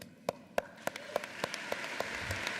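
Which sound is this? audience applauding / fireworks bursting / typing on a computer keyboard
audience applauding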